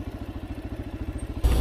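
A touring motorcycle idles steadily up close, its rapid, even thumping pulses continuous for over a second before a louder, rougher burst at the end as it comes to a stop for parking.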